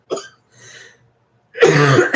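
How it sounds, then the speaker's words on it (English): A close, sharp cough, then a softer rasp after a short pause, followed by a longer, rougher cough-like burst. "Ever since I plugged them in, I've been coughing."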